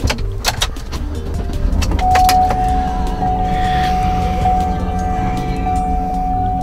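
A 2007 Cadillac Escalade's 400 hp V8 starts up and settles into a steady idle. A chime-like tone rings continuously over the engine noise, with no talking.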